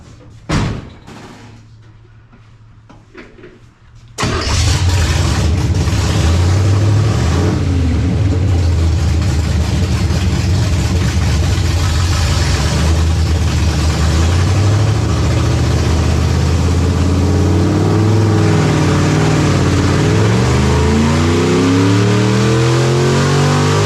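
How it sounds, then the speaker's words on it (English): A nitrous 339 stroker small-block Chevy engine on a hub dyno starts after a few seconds of quiet, then holds a loud, rough, sustained rev that climbs toward the end. "We're going to give it a little more RPM and see if it'll clean up and go."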